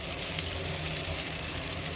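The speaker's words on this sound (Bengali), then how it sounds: "পটল ভাজির যে অবশিষ্ট তেলটা ছিল, সেই তেলের মধ্যেই আমি এই যে ডিমটা দিয়ে দিব" An egg sizzles in leftover oil from frying pointed gourd, a steady, close hiss of frying with a soft crackle that holds even throughout and has no talk over it.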